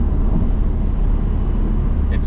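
Alfa Romeo Giulia 2.0T with an aftermarket downpipe and exhaust cruising on the highway at about 80 mph, a steady, subdued cabin drone of engine, tire and road noise.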